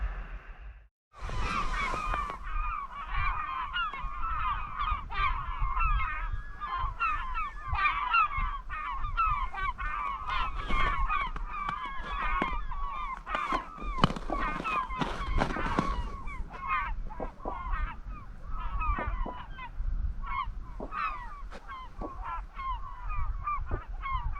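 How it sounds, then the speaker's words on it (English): A flock of seagulls calls while passing by, a dense, steady stream of loud, close squawks and cries overlapping one another over a low rumbling background for the whole stretch. "Flock of seagulls came by."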